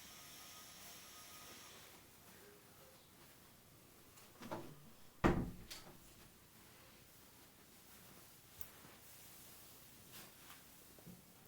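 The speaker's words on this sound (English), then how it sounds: "Let me close the door." A room door is shut indoors, giving one solid thud with a lighter knock just before it, then quiet background hiss.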